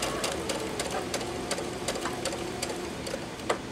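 A sewing machine stitches a quilt seam in a steady, fast, close mechanical patter with a faint rhythmic ticking that runs unbroken throughout, with no talk.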